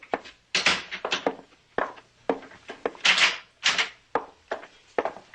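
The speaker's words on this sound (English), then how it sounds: "Close the door." A door is closed in a quiet room, followed by several sharp knocks, clunks and handling thuds spread irregularly, close and clear without talk.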